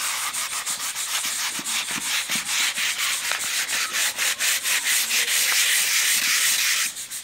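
Sandpaper is rubbed by hand against a wooden edge in steady back-and-forth strokes, a close, loud, rhythmic scratchy rasp repeating every fraction of a second with no talking.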